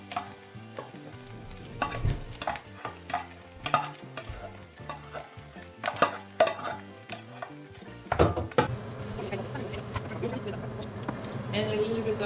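Rice going into a pan for shrimp fried rice and being stirred, with irregular scrapes and clanks of a utensil against the pan over a sizzling background that grows steadier toward the end.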